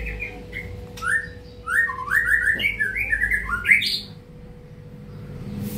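A white-rumped shama sings a quick run of bright, rising whistled phrases close by, loud and clear, then falls quiet.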